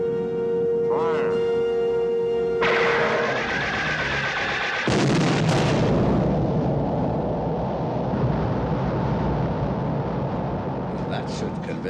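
A sci-fi film's Delta Beam weapon fires with a sudden loud roaring blast that follows an electronic tone and a spoken command, then rumbles on in a dense sustained wash of noise.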